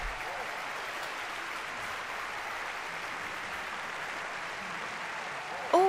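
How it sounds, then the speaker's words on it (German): Steady, dense crowd applause from a televised game-show audience in the Schlag den Raab video game, a continuous wash of clapping and cheering that holds at an even level throughout before cutting off. "Oh yeah, das Publikum geht voll ab."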